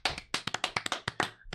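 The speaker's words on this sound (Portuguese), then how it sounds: "Palmas pro Soraya" Brisk hand clapping close by, a quick irregular run of about a dozen sharp claps from a small group, with no talking over it.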